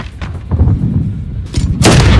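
Gunfire and heavy booms from Call of Duty Modern Warfare, a dense stretch of loud shots and thuds with a louder burst of blasts near the end.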